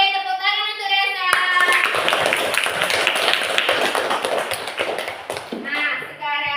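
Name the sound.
class clapping hands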